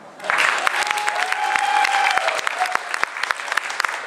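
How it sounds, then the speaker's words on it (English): An audience bursts into applause, loud and close, with dense clapping that swells quickly and then thins toward scattered individual claps. "I can give you a round of applause one more time"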